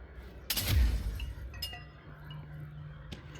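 Glass breaking in the video game Control: a sharp burst of shattering glass with bright clinking fragments, followed by a softer second clink and a faint late tinkle, heard without speech.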